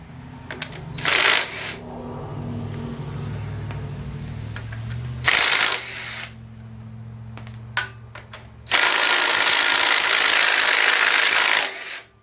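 Power tools strip down a 383 stroker engine in a garage, with loud bursts of impact-wrench whirring, the longest near the end, between quieter spells of a low mechanical hum and scattered clicks.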